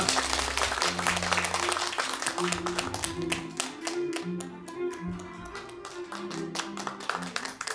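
Applause from a symposium audience welcoming a presenter, a steady patter of many hands clapping near and fairly loud, with voices and music-like tones underneath throughout.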